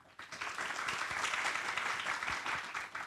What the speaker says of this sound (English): let's give a round of applause to our panelists today